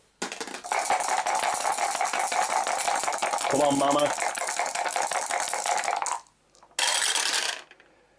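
Three dice rattled for a board game check, giving a long continuous clattering rattle followed by a shorter second burst, with a brief spoken voice in the middle.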